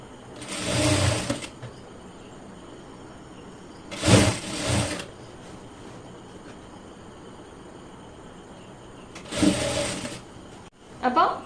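A sewing machine stitching a folded hem on a simple frock in three short whirring bursts of about a second each, separated by quiet pauses, with a brief fourth burst at the end.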